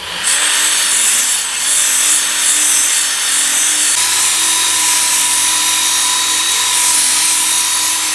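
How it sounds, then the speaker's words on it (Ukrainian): A Work Sharp WSKTS-KO electric belt sharpener sharpens a garden tool, giving a loud, steady motor whine with a grinding rasp as the blade meets the belt. "тепер можемо гострити садовий інструмент"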